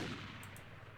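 Gunfire in Mount & Blade Warband with the 1860 Old America mod: a short, faint burst of two quick cracks over a steady low rumble of battle noise, with no voices.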